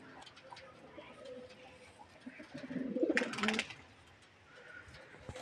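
A pair of pigeons in a home loft coo softly, with a louder burst of wing flutter and scuffling midway, amid faint background noise.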